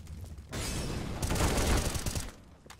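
Gunfire in a video game shooter, a dense sustained burst of rapid shots rolling on for about two seconds, loud and close, with no one talking over it.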